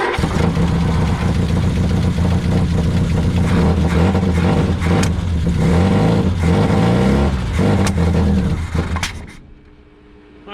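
An old Triumph Spitfire engine runs steadily and loudly up close, its rough idle wavering with slight revs, then cuts out abruptly near the end, leaving near quiet.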